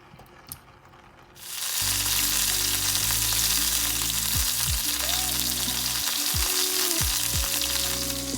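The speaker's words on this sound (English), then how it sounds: "I'm going to saute some potatoes. I cut them in medallions, somewhat thin." Thin potato medallions sautéing in a hot pan to go with an Argentinian-style T-bone: a loud, dense sizzle bursts in after a quiet start and holds steadily, with faint scrapes and clicks of the pan underneath.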